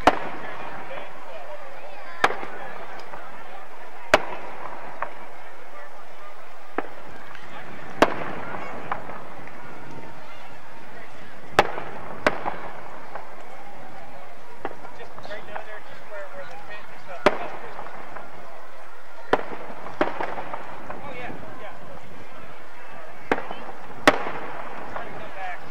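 Fireworks at a Christmas parade go off as a series of sharp, widely spaced bangs over a steady crowd rumble, with people talking in the background.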